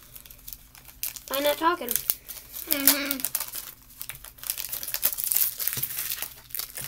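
A foil pack of football cards torn and crinkled open in repeated crackling bursts, close and fairly loud, with people talking in between and over it.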